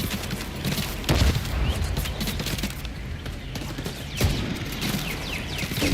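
Rapid gunfire in a first-person shooter game, a dense, busy battle mix with repeated sharp bursts standing out around a steady clamor, with faint voices underneath.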